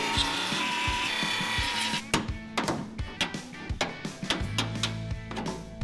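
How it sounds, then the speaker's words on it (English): A belt grinder works over the front spot welds on a truck body, giving rough rasping grinding with a series of short, sharp bursts and pauses, close and loud, with no talking. "I'm gonna belt grind my front spot welds"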